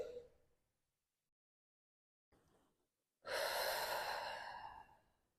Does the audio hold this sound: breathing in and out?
yes